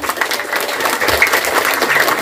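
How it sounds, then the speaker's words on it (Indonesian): Audience applause at an Indonesian Islamic sermon, continuous fairly loud clapping from a crowd in a hall, steady and unbroken. "Tepuk tangan untuk Nurul Hikmah."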